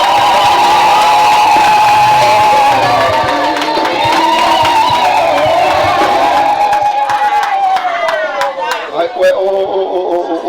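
A Zulu wedding crowd ululates in loud, wavering high trills alongside shouts and cheers, and a burst of hand clapping follows near the end.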